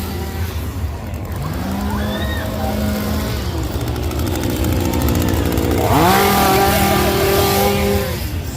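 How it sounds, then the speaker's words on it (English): A chainsaw revs in short bursts at a Halloween Horror Nights scare zone in Hollywood, its rising engine whine loud over a busy crowd din, one long rev early and another near the end. "Chainsaws, I live for the chainsaw."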